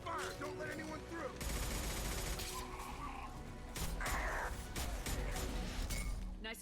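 Gunfire in the video game Mass Effect 2 rattles loudly and continuously, layered with mechanical clatter and crashing effects throughout a busy battle scene.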